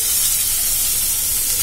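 Onion, green chili and cumin hit hot oil in a pan and sizzle steadily, a loud, close, continuous hiss with no break and no talking.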